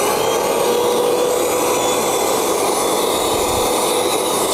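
A Hyco 4-in-1 multi pressure washer runs in blower mode, putting out a steady, loud, unbroken whoosh of rushing air and motor whine with no pauses and no talking.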